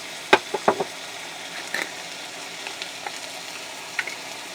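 A pound of ground beef browning in a pan over solar-powered cooking, a quiet, patchy sizzle with a few sharp pops and clicks early on, then softer crackles.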